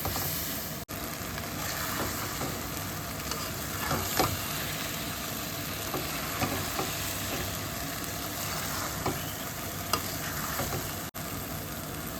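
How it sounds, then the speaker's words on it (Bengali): Onion, ginger, garlic and spices fry with tomato in a pan, giving a steady, dense sizzle throughout with faint stirring clicks and no voices. "পেঁয়াজ আদা রসুন রেগুলার যে মশলাগুলি সঙ্গে টমেটো কষিয়ে নেওয়া হচ্ছে"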